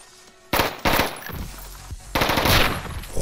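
Bursts of M4 rifle gunfire in the top-down shooter Intravenous, two sharp loud volleys separated by a quieter gap, with no talking.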